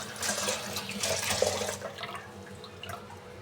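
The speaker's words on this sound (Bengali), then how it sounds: "চাউলটা আমি ধুয়ে নিছি" Rice for khichuri is rinsed by hand in a pot of water, giving a close, soft sloshing and splashing that fades into lighter trickles and drips.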